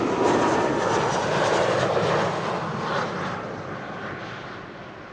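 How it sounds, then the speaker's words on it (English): KLM Embraer 190 airliner arriving at Schiphol, a loud, sustained jet roar close by that slowly fades over the last seconds; no voices. "KLM Flight 1710, arriving from Luxembourg,"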